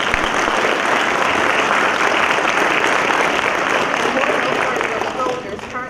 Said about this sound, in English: Please join me in a round of applause for the team of soldiers who assisted with setting up today's